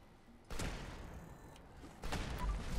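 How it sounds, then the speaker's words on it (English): Explosions go off in a video game battle against a big green Deathclaw, two heavy booming bursts, one at the start and another about a second and a half later, over a continuous rumbling background. "Stupid explosions won't stop."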